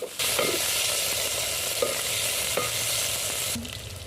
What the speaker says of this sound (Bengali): এবার পেঁয়াজটা আমি ভেজে নিচ্ছি